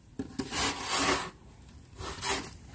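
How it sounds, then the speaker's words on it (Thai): Holes being poked into the side of a foam box for planting, giving a few close, scratchy rubbing bursts with short pauses between them. "เจาะข้างด้วยนะคะ"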